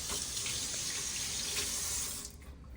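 Tap water runs steadily into a kitchen sink while hands are washed, a close, constant rushing splash that cuts off abruptly near the end.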